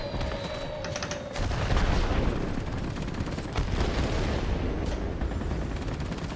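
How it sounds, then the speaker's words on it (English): Bombs from a Pe-2 M-82 bomber dropping onto ground targets in World of Warplanes, a series of heavy booming explosions and rumbling blasts over steady aircraft engine drone, with no talking. "There we go, effective drops on those targets."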